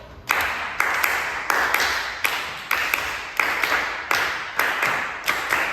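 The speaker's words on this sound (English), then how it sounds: "Let's clap the cinquillo cubano together." Several people clap together in unison, beating out the syncopated five-stroke cinquillo cubano pattern of Cuban habanera music, sharp repeated claps in an uneven rhythm, close and clear, with no talking.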